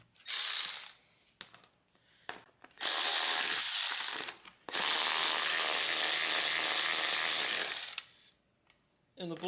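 A ratchet wrench turns the seat bolts on a 1992 Honda CR80R dirt bike, close and loud, in three long runs of fast clicking separated by short pauses.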